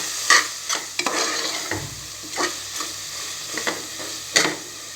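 Garam masala and chilli powder for chana biryani sautéing in a pan, a steady sizzle broken by repeated scraping stirs of a spatula, close by.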